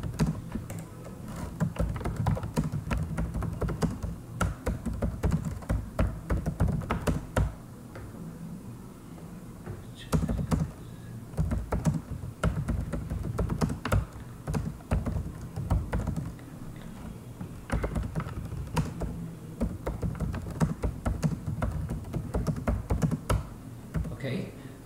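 Steady clicking of typing on a computer keyboard, entering email body text while setting up a Magento 2 store add-on, with quick irregular key taps that continue through the whole stretch at moderate level.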